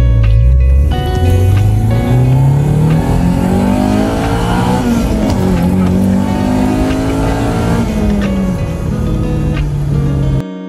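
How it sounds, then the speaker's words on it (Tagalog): A 1990s Honda Civic SiR engine revs hard through VTEC, the loud close engine note climbing and falling in pitch over several long sweeps, with no talking. "pakinggan natin yung VTEC"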